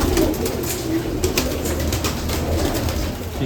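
An old female racing pigeon in a breeding loft coos steadily and fairly close over a busy background murmur of other birds, with no talk.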